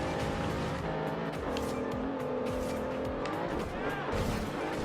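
A car's engine roars at full throttle in the racing game Forza Horizon 2, pursuing a Jaguar, loud and continuous with shifting revs and tyre squeal throughout.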